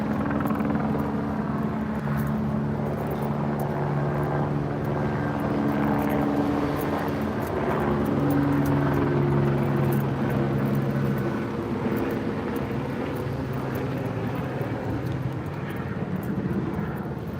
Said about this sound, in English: Where'd the helicopter go? They still got him.